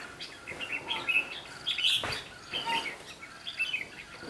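A red-whiskered bulbul chirps near a bird trap outdoors, giving a series of bright, quick chirps and short calls in uneven bursts, fairly close and clear over faint background noise.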